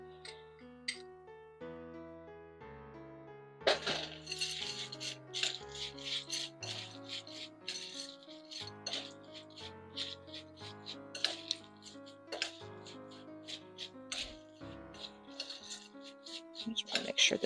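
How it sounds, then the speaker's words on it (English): Spicy butter is stirred into pumpkin seeds in a bowl, giving soft scraping and rattling clicks of seeds and utensil against the bowl, quiet and intermittent under background music. "to mix my spicy butter into my pumpkin seeds."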